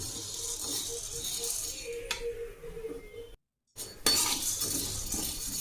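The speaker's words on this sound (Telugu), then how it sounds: "అందుకే దాన్ని తిప్పుతూనే ఉండాలి మనము మాడకుండా" A spoon scrapes and clinks steadily in a pan as toor dal roasts dry, soft intermittent stirring with metallic taps, a brief silent gap, then stirring resumes closer and louder.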